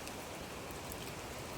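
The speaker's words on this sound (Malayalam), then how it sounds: "ഈ ചെറിയ മഴ." Light rain falls amid mist on a Matheran hill trekking trail, a soft, even hiss of drizzle with no voices.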